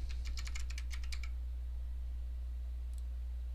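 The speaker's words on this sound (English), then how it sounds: "we're going to right click and start typing particle." A quick burst of about a dozen keystrokes on a computer keyboard, close and crisp over a low electrical hum, with one last faint tap near the end.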